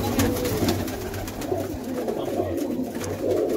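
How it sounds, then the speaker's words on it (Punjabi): Pigeons coo in low, soft, rumbling calls that repeat steadily against a busy background, with no speech. "ਕਾਲੀ ਕਬੂਤਰੀਆਂ ਦੋ ਆ, ਕਬੂਤਰੀ ਤੇ ਕਬੂਤਰੀ ਆਪਣੇ ਕੋਲ ਆ, ਕਬੂਤਰ ਤੇ ਦੋ ਆ"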